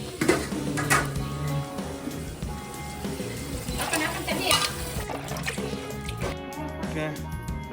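Water is poured onto chicken in a cooking pot, trickling and splashing near and fairly soft beneath ongoing talk.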